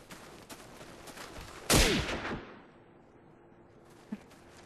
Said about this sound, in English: He's also jumping over that garbage can and shooting me.